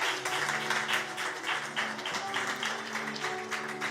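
A church congregation claps together in steady, dense applause that stays loud and even throughout, with no voices heard.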